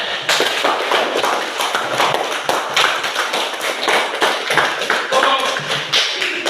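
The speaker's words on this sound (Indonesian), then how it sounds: "Kita berikan tepuk tangan" Students in a school classroom break into applause, a dense, steady patter of many hands clapping close by for the whole stretch, with a few voices mixed in.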